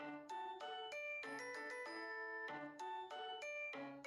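A doorbell chimes at night in a home in Japan, a bright repeating sequence of melodic tones sounding clearly and continuously with no talking.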